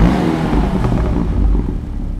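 In a video game, the engine of a Dinka RT 3000 car starts and then settles into a steady, loud, close rumble, with the exhaust giving off a rough, whirring drone that fades slightly toward the end.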